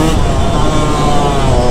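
A Yamaha YZ125 two-stroke motorcycle engine revs hard and steadily while riding, a loud, close, continuous buzzing drone with no pauses.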